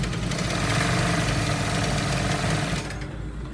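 A sewing machine running steadily while stitching a trouser seam, a close continuous mechanical whir that stops sharply near the end.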